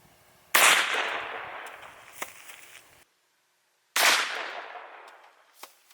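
Two loud, sharp blank-round gunshots are fired about a foot from a soda bottle, each a sudden crack with a long fading tail, the pair spaced a few seconds apart with quiet between them.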